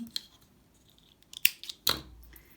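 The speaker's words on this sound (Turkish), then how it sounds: "Ben ipimi kesiyorum." Scissors snip crochet yarn in a few quick, crisp cuts, two of them sharper and louder, against a quiet background.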